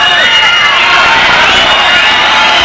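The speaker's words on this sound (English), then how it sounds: "Crowd's getting into it" Crowd noise swells loudly at a 1998 USA vs Russia freestyle wrestling World Cup match in overtime, a dense sustained roar of cheering spectators with no clear break.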